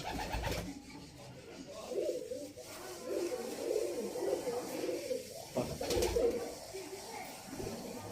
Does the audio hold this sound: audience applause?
no